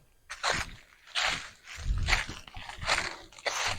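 Footsteps crunching through dry leaves in a forest, a series of fairly loud, irregular crunches every half second or so, near the microphone with no talk.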